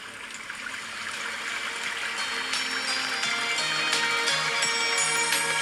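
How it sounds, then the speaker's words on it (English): Running stream water from an iPhone's Background Sounds feature, a steady soft rushing hiss that grows slightly louder, mixed with quiet music tones. "You can hear the water running in the background of the music playing."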